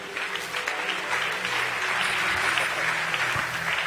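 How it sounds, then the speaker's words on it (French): A church congregation breaks into steady, sustained applause after a scripture reading, with dense clapping that continues at an even level throughout. "on acclame le Sainte Écriture"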